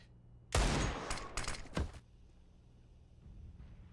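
Desert Eagle pistol shots in Counter-Strike on the Mirage map ring out as a loud burst of several quick reports close together, then fade into quiet ambience.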